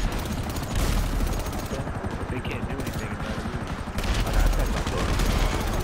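Dense, rapid gunfire fills a Grand Theft Auto V mission shootout, continuous overlapping bursts up close with players talking over the shots.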